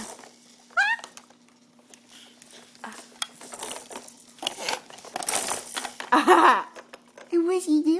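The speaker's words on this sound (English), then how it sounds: "Did you see that kitty?" A cat meows in a home, a few short cries scattered among crinkling, clattering household noises and voices.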